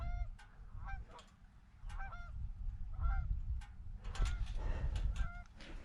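Geese honk repeatedly in a loud, ragged chorus of overlapping calls close by outdoors, set against a steady low rumble.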